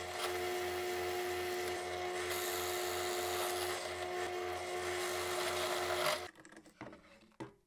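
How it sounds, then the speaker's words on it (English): A drill bores out wood from inside a handle in a woodworking shop, a loud continuous whining buzz with a rapid pulsing rhythm that stops abruptly, followed by a few faint knocks. "I'll drill out as much material as I can from the inside of the handle."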